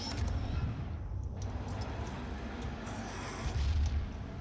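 Fragmentation grenade blasts in the video game DOOM, heard as a continuous rumbling, booming wash of explosions with no clear gaps, heavy in the low end and fairly loud.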